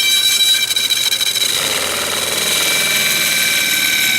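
A spinning dowel cutter shaving a wooden dowel: a steady, harsh buzzing whir with a high-pitched whine, loud and close, rough at first and then settling into an even drone.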